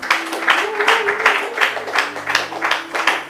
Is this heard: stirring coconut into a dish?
no